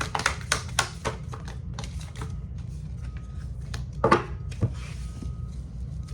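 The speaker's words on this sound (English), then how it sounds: "I'm just gonna pull some oracle cards for you" Oracle cards are shuffled and pulled in a quiet room, giving a series of soft, irregular taps and riffling clicks over a low background hum.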